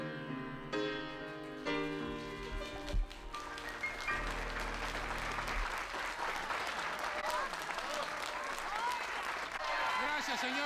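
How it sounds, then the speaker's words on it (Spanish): Audience applause in a Spanish-language television comedy show studio, rising after a few seconds of closing music and then holding as a steady, dense clapping wash with some crowd noise to the end. "Gracias, señoras y señores, por los aplausos."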